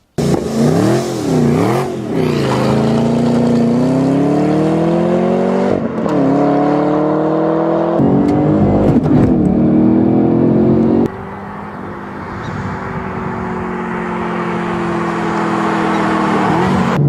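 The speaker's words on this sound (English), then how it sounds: "These are real exhaust and they make a really good noise." A 2012 Chevy Camaro ZL1 engine revs up and down repeatedly with a loud, throaty exhaust, then settles into a steady rising drone as it pulls away.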